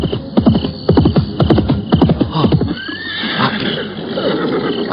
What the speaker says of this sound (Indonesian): Ada pasukan berkuda datang kemari.